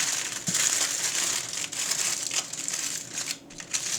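Aluminum foil crinkles and crumples in close, busy bursts of crackling for several seconds as it is pulled off a tray of McDonald's-style McRib meat, with no voices.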